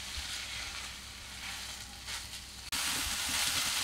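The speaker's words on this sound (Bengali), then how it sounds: "এটা আমি আরও এক মিনিট ভেজে নেব।" Paneer sandwich filling frying in a pan with a pinch of turmeric: a steady, loud close sizzle throughout, briefly cut off and then resuming at a fuller, hissier pitch.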